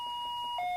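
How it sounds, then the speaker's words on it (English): An infusion pump's occlusion alarm sounds as line pressure builds during testing with an IDA-5 infusion pump analyzer, giving a clear, sustained electronic tone that shifts to a second pitch near the end, alone and moderately quiet. "so we're back and you can hear the alarm going off."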